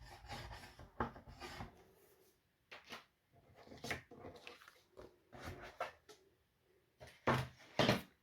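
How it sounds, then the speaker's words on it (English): Paper card tab strips for a post office paper crafting kit are folded and creased, a series of dry scraping rubs and crisp crackles in short bursts, close and fairly quiet, with pauses between. "So now I'm just going to fold that over."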